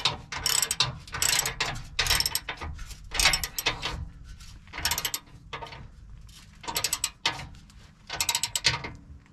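A ratchet wrench tightens receiver hitch bolts on a 2021 Ford Bronco, with rapid clicking bursts in repeated strokes separated by short pauses, close and loud, with no talking.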